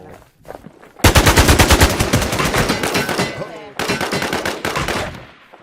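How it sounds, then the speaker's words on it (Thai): Rapid automatic gunfire from the video game Infestation rattles out in loud, close bursts, with a long volley followed by a brief pause and a second burst. "เบนยิงตัวนั้นโอ้"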